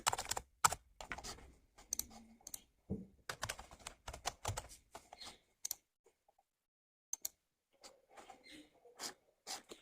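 Invoice details are typed on a computer keyboard in quick bursts of close, crisp key clicks, broken by short pauses and a longer quiet stretch before more scattered tapping.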